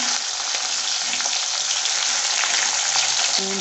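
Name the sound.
frying green chillies and onion in a pan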